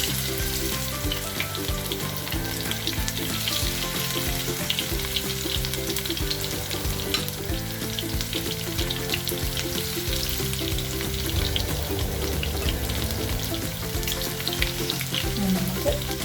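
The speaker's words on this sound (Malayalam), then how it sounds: "നമുക്ക് ഫ്രൈ ചെയ്ത് തിരിച്ചിട്ട് നോക്കാം." Prawns fry in a pan with a dense, continuous sizzle that stays loud and steady throughout, with faint stirring texture and no voices.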